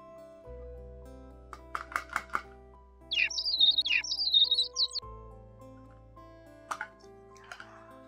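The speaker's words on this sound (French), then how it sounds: "C'est le petit oiseau, le poussin." A chick peeps several times in short bursts within a children's farm-animal presentation, set over soft background music, with a few bright chirps and drip-like tones around them.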